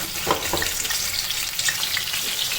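Onion and tomato paste frying in hot oil in a wok, a loud close sizzle with crackling bursts and some stirring scrapes, no talk.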